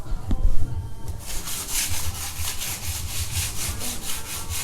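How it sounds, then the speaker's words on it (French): Rust sanded by hand off chrome-plated metal table legs, a close, rhythmic back-and-forth scraping of repeated strokes at an even pace, without speech. "En premier, je vais poncer la rouille."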